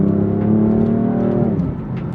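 A BMW M4 Competition F82 without a valve exhaust drones steadily at close range, its engine note holding even and full before easing slightly near the end.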